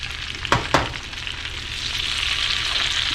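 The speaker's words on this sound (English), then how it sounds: "I got some butter melting, and I'm just basically just going to do a wild mushroom medley saute is what I'm going to do." Wild mushrooms, including boletes and chanterelles, sauté in melted butter, a steady close sizzle with two brief stirring clatters near the start and no talk.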